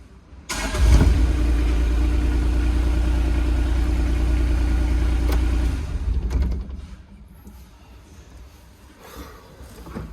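A nearby engine runs at a steady high drone, then its revs drop away and it settles to a much quieter low idle.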